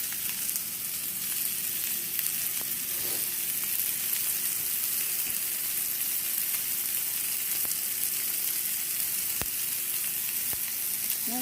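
Steak sears in a hot pan, a steady close crackling sizzle that runs without a break, with only faint occasional clicks beneath it.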